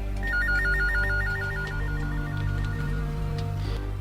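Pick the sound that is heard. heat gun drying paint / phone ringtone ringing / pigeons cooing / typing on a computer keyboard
phone ringtone ringing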